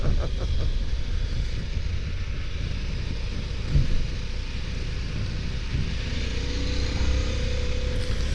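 A 2023 Harley-Davidson Pan America Special motorcycle engine drones steadily while riding, a loud continuous low rumble with wind rush and a slight rise in pitch toward the end.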